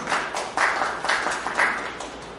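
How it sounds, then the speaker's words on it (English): A small audience at a homoeopathy day celebration claps for students, a modest, uneven round of hand claps coming in a few soft surges, moderately near and without talk. "huge clap for our students."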